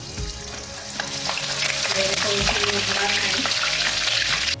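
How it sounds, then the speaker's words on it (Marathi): Green chilies frying in hot oil for a maize chivda, a steady crackling sizzle that swells and stays loud, with occasional stirring clinks. "मिरची तळून घ्यायची पण ती सांभाळून टाकायची आहे"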